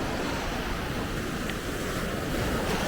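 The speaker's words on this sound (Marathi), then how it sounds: "परंतु खूप छान असं समुद्राच्या लाटा" Sea waves wash onto the beach at Harihareshwar on the Konkan coast as a constant, loud roar of surf mixed with wind buffeting, with no voices.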